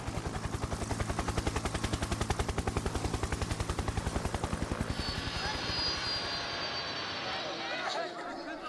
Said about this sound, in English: we see a Peshmerga helicopter coming in for landing